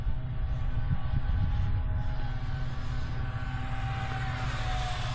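An NGAD model airplane flies at throttle, its engine giving a continuous, steady loud drone with a constant whine on a bright sunny day, with no voices.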